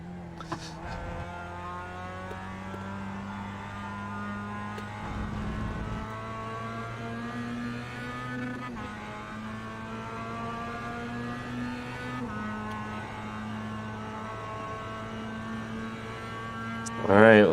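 A Mazda MX5 Cup race car in iRacing drones through gears with a steady engine tone that climbs, holds near the limiter, and drops at each shift, repeating over many seconds before a sharp burst at the end.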